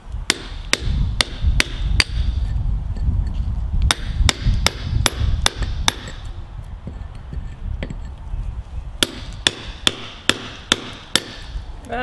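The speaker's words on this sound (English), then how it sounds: "So now that I'm going back to my chiseling work in the back garden and putting down some stones." A hammer strikes a chisel against stones in a back garden, making sharp metallic clinks in fast runs with short pauses between them, close and loud over a low background rumble.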